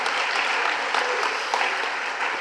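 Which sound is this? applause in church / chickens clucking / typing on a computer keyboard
applause in church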